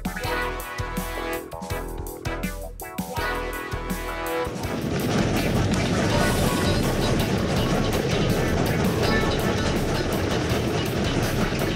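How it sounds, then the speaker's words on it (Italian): Steam train at Chehalis, Washington, rolling along with a rumbling clatter of wheels on rails, quieter and choppy at first, then a loud dense continuous roar for the remaining seconds, with no talking. "Oh, questo è un treno a vapore."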